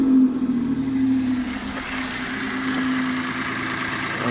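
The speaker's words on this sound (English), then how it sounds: "now we're gonna start the engine and check for any leaks" A Citroen C1 engine idles just after starting, freshly serviced with new oil, spark plugs and oil filter, giving a steady mid-pitched hum with a faint vibrating drone, close and continuous.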